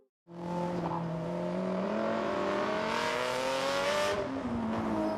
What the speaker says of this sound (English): It also manages a wide range of sounds, from engine noise and tires on the road to street ambience and even horns.